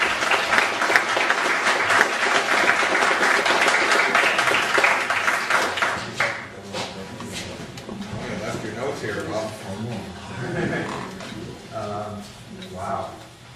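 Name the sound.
audience applause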